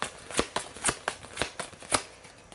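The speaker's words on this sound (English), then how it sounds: "so I'll just shuffle these 2." Playing cards for a tabletop game are shuffled by hand, a quick series of soft riffling snaps in an even rhythm, close and quiet.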